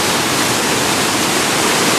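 Floodwater rushing down man-made cascades in a flooded valley, a loud, dense, unbroken roar of falling water filling the whole clip at close range.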